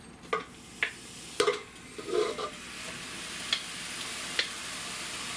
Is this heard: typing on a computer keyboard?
no